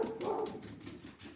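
A dog barks at a live wheel-throwing pottery session, a series of about six faint, muffled barks in a steady rhythm, heard from a distance with no talking.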